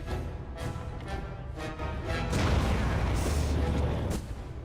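A freeze bomb bursts in the fantasy video game Dragon Age: Origins, a loud rumbling blast swelling midway and sustaining with crackling debris and a high icy shimmer, following softer combat thuds.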